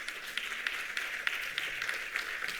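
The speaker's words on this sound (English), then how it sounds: "Et nous l'applaudissons chaleureusement" Audience applause at an international conference on age-friendly cities, a steady patter of many hands clapping in a hall, moderately distant and even.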